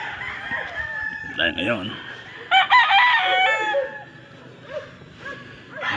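Gamefarm roosters crow in loud, overlapping calls with scattered clucking, several birds nearby in a pen setting, while someone speaks briefly under them.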